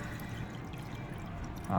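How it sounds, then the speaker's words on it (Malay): Water pours steadily into a home aquarium tank being topped up, a continuous splashing trickle that swells louder near the end. "So sekarang ni kita akan top up air dulu."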